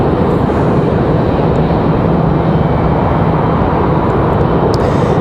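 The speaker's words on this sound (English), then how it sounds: "we've got American Airlines 1566 coming in from Miami" An American Airlines A319 jet arrives at Raleigh-Durham airport with a steady, loud, broad engine roar that stays even from start to finish, with no talk over it.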